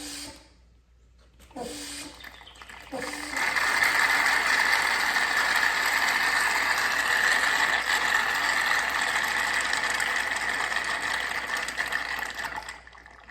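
An OEM Tools manual fluid extractor is pumped, starting with a couple of short mechanical clicks and then settling into a continuous hissing, whooshing suction drone that holds steady and close.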